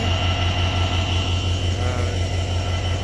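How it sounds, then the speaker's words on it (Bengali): A train locomotive at Bhanga railway station in Bangladesh, heard as a loud, steady low diesel drone with a constant mechanical hum throughout. "আর এই যে আমাদের লোকোমোটিভটি,"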